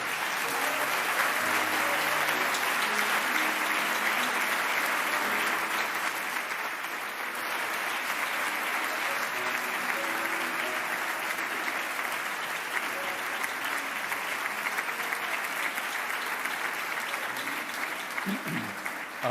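Sustained applause from a large crowd at a Protestant Reformation Day church service, dense and steady clapping continuing throughout with little change in intensity.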